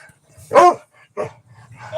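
A dog barking in three separate bursts, loud and close, with a short silence between each bark.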